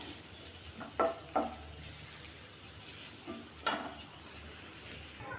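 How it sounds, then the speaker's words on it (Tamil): Ragi flour roasting in a pan with a teaspoon of ghee, with faint low sizzling and a few short scraping stirs of a spoon against the pan, spaced out and close by, with no one talking. "இதுக்கு ஒரு டீஸ்பூன் அளவுக்கு மட்டும் நெய் சேர்த்துக்கலாம் இப்போ இதுவும் நல்லா வறுத்து விடணும்"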